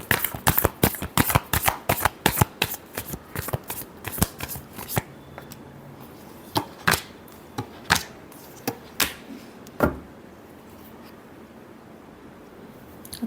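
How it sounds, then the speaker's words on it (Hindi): Tarot cards being shuffled close up, a fast run of crisp riffling snaps that slows into sparse, separated card slaps toward the end. "Last shuffle."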